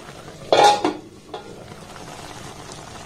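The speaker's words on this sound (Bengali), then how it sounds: "তো এটাকে প্রথমে একটু আমি ঢাকা দিয়ে দেব" A lid set onto a cooking pan of simmering raw mango pickle, a single loud metallic clatter and rattle up close, followed by a softer knock and a low background bubble, no voices.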